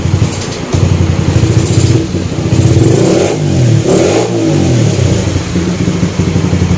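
A Honda Sonic 125 motorcycle engine revs hard close by, its loud buzzing note rising and falling through several throttle blips over a steady running beat, with no talking.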